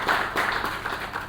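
An audience at a Moroccan pension fund anniversary ceremony claps in a dense, continuous burst of applause that fills the whole short moment.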